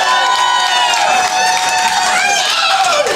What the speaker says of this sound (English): I'm assuming this will be a larger round of applause than in most cities.